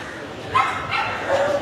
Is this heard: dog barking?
yes